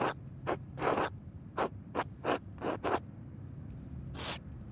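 Scratching of text being corrected in the Pentiment video game, a series of short rasping quill-like scrapes in quick bursts, close and fairly loud, with a final scrape after a pause.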